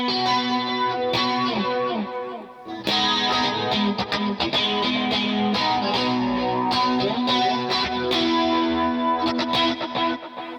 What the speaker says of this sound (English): you can hear him hit and then the delay playing along with it